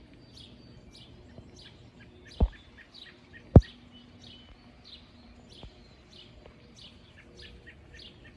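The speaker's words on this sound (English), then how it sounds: "Many birds, you can hear them." Many birds in a garden, repeated chirps and tweets scattered throughout at moderate distance, with two sharp knocks in the middle and no talking.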